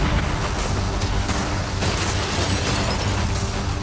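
Cannons fire at a yacht in a dense, continuous roar of booms and blasts, loud and unbroken throughout with no clear gaps, with no talk.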